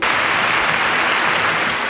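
Women applauding at a convention centre as they welcome a presidential ticket, a loud, dense and unbroken roar of clapping from a large crowd.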